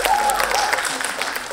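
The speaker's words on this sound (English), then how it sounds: "You can clap." Audience applause at a Pecha Kucha talk in a conference hall, a dense wash of clapping from a crowd filling the room steadily for about a second and a half.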